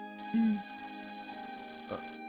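A telephone rings steadily and close up in an indoor domestic scene, a sustained electronic tone running almost the whole clip, with a brief louder tone near the start and a short bump near the end.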